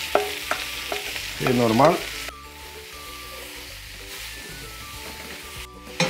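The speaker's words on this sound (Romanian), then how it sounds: "las ceapa să se călească bine" Onions sizzle in a hot pan for a chicken stew, with spoon stirring and scraping close by for a few seconds before the frying settles into a quieter steady hiss; someone briefly speaks.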